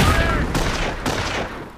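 Dense gunfire from squads in the World War II strategy video game Company of Heroes, a steady roar of overlapping rifle and machine-gun bursts with a few sharp louder shots, loud and continuous throughout.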